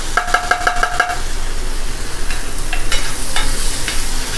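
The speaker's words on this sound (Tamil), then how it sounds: "இஞ்சி பூண்டு விழுதை சேர்த்துட்டு நல்லா நம்ம பரட்டி விட்டுடலாம்" Ginger garlic paste and green chillies sautéing in a hot pan for egg masala gravy, a short burst of tapping against the pan followed by steady sizzling and stirring.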